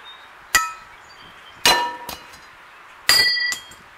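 A heavy steel pulley, rusting, struck three times, each hit a loud, ringing metallic clang that fades slowly between strikes, no talking.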